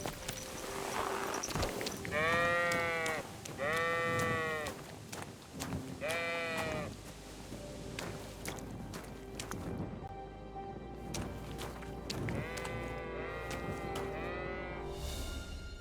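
Sheep bleat repeatedly on a farm in the video game Kingdom Come: Deliverance II. The calls are wavering and come in bursts of several overlapping animals at moderate distance, with quieter bleats later.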